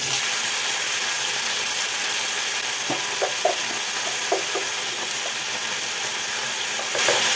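Tomatoes hit hot oil in a wok with panch phoron spices, giving a soft, steady sizzle and hiss, with a few scattered clicks and taps from stirring partway through.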